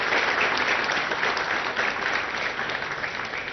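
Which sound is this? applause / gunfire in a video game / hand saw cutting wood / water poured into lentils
applause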